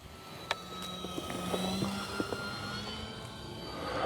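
An FMS CJ-6 1200mm RC model airplane flies in heavy snow, its electric motor a steady faint whine and drone in the distance, with a few sharp clicks and thumps nearby; no voices.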